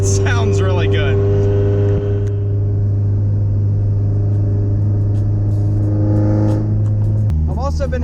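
A Porsche 944 with a full Lindsey Racing 2.5-inch derestricted exhaust runs loud and close, holding a deep steady drone that steps down near the end, with brief voices at the start and finish.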